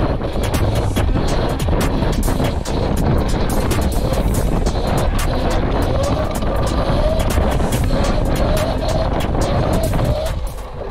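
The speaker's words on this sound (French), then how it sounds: "On déclenche le wheeling et on essaye de maintenir." A motorcycle engine held at steady high revs while the rider keeps the bike in a wheelie, loud and continuous with heavy wind rush over the microphone, no talking.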